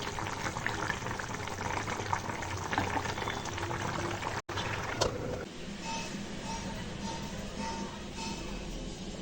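Curry gravy boiling in a pot, a loud continuous bubbling and rolling simmer heard up close, briefly interrupted by a short cut midway, then the steady boil continues with no talk.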